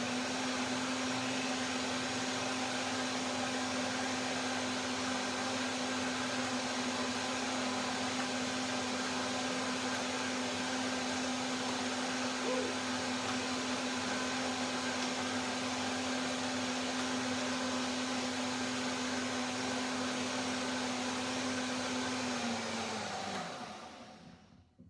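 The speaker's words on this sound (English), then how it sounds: "One more blender dance to get the texture right." A kitchen blender whirs steadily as it purees a lemon, persimmon, kale and orange smoothie, a loud constant motor hum that runs alone for about twenty-four seconds before winding down abruptly at the end.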